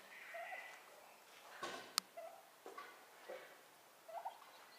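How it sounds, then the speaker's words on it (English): Soft, high chirps and peeps from newly hatched chicks come in scattered bursts, with a brief sharp knock in the middle, fairly quiet and close. "Lots of chirping going on there."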